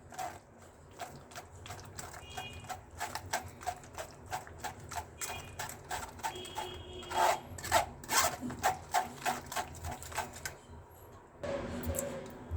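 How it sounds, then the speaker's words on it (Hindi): Tamarind and date paste for a chutney pressed through a strainer, with a steady run of rhythmic scraping and knocking strokes that grow louder midway, then pause before a burst of rougher rubbing. "इसे भी हमें अच्छी तरह से छान लेना है, ताकि इसमें कुछ भी पार्टिकल्स ना रहें।"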